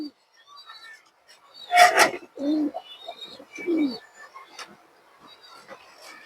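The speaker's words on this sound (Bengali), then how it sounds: "এটা সিলভার খাঁকি মাদি কবুতর" A silver khaki female pigeon coos in short, low bursts close by, mixed with faint chirps and someone talking over it.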